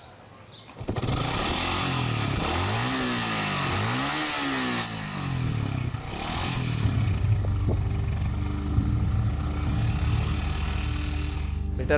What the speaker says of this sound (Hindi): बाइक में ऑल्ट्रेशन कराई है क्या आपने?